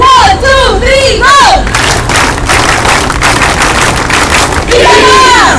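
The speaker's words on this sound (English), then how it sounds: "Peace clap! 1, 2, 3, go!" Large outdoor crowd at the EDSA peace mural event doing a group peace clap: a loud, dense burst of clapping and cheering, preceded and followed by a voice shouting over the crowd.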